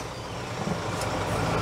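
Mahindra Thar SUV with a 2.2-litre mHawk diesel engine running at idle, a steady close rumble with a slight rise partway through and no talk.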